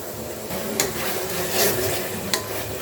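Spoon stirring ground spices such as coriander, cumin and mixed curry masala into beef skin curry in a pan, a steady scraping and sizzling texture with a couple of sharper clinks against the pan.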